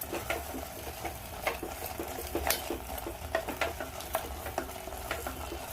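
Spice mix for kurma stirred in a pan, a steady run of close, soft scraping strokes over a low sizzle with faint clinks of the spoon against the pan.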